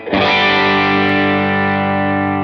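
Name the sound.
electric guitar through Line 6 Helix clean amp, hall reverb, quarter-note delay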